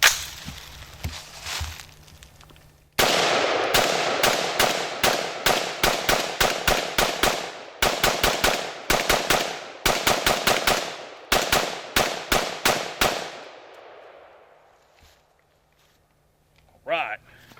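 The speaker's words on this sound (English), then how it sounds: "So you wanna see if it'll shoot, Amy?" A Smith & Wesson M&P15 Sport II AR-15 rifle firing .223/5.56 rounds, loud sharp shots in rapid bursts and strings across the middle of the clip, each with a short outdoor decay, then a pause and faint sounds near the end.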